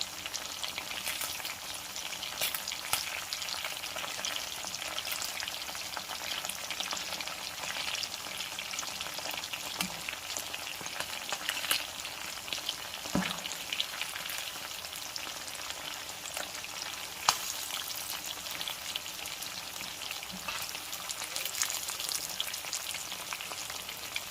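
Fish fillets frying in hot oil with lemon and chaat masala, a steady dense sizzle and crackle with occasional sharper pops and spatters, close and continuous.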